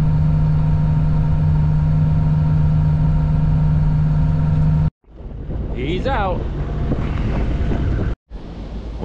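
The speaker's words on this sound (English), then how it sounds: "Really windy, rainy, on and off." Strong wind buffets the microphone in a loud, continuous roar on a steep driveway construction site, cutting out abruptly, with a rising mechanical whine and muffled sounds in the later gusts.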